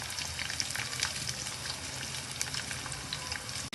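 Ivy gourd curry with onion fries in a pan with a steady, dense sizzle and crackle, close and even throughout, with no talking.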